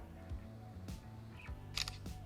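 Camera shutter click from a Galaxy Z Flip 4 phone snapping a photo on voice command, a few short clicks over a low steady hum, near and fairly quiet.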